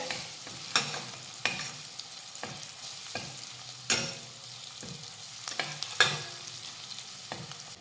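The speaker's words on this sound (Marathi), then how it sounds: "आता हे मसाले आणि कोथिंबीर व्यवस्थित मिक्स करून घेऊयात" Spices and chopped coriander being stirred in a pan, a low sizzle punctuated by repeated sharp scrapes and taps of a spoon against the metal at irregular intervals, close and clear with no voices.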